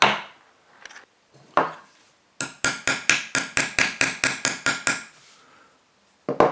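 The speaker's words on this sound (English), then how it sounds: "Let's put them on and give them a tap with the hammer" Repeated sharp hammer taps on small copper pennies being seated into a Lucas CA45 starter motor, a quick even series of about a dozen metallic strikes close by, with a few scattered knocks before and after.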